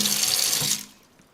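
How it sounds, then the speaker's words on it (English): Running tap water splashes steadily as beef tripe for menudo is rinsed under the faucet, close and constant for most of the clip, then shuts off abruptly into near silence. "Just rinse your menudo well."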